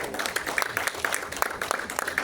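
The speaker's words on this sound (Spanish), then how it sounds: "Dale un aplauso al Señor" Crowd applause fills the room at a church worship service, a dense steady patter of many hands clapping at close range with scattered louder claps, steady throughout.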